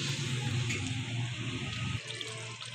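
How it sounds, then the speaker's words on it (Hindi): Water is poured into a pan of chicken masala with bottle gourd, a steady close splashing pour that runs for about two seconds and then stops, leaving a faint trickle; no one talks. "ये मैंने इसमें 1/2 cup जो है पानी का ऐड कर दिया है, ताकि ये जो हमारा चिकन है अच्छे से गल जाए।"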